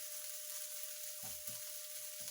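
Beef sizzles steadily at low volume in a stir-fry pan while a few soft scraping thumps of stirring break in near the end.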